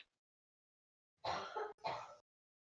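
Two quick, close coughs in a row, a brief breathy pair against near silence.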